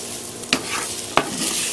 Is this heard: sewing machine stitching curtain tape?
no